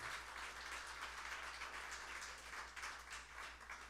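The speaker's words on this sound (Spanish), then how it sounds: "Dale un aplauso al Señor." Church congregation applauding together, a steady wash of clapping with no break and no talk, fairly quiet and distant-sounding beneath a low constant hum.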